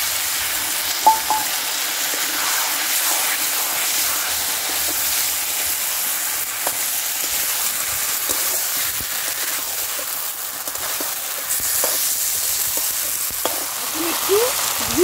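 Eggs, potatoes and figs fry in a pan with a steady broadband sizzle and hiss, moderately quiet and continuous, broken by occasional small clicks and stirring sounds.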